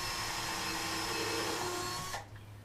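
A small power drill runs steadily, pre-drilling holes for screw hooks while mounting shop lights, whining for about two seconds and then stopping abruptly, with no talking.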